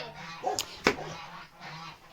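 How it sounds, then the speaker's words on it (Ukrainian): A couple of short honking calls from geese, fairly faint and somewhat distant, over a quiet background with light rustling. "вже гуси кричать"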